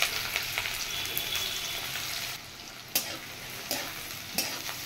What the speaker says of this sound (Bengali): এবার আমি এখানে কুচিয়ে রাখা পেঁয়াজগুলো দিয়ে দেব।